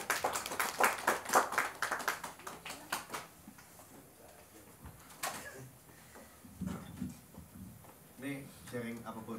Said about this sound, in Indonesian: Tepuk tangan dulu buat Bodat.